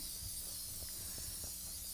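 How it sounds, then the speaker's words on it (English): Canola oil is lightly sprayed from a can while cooking cream cheese sausage balls, giving a steady close hiss under a constant background noise. "So we're going to use canola oil and just lightly spray it."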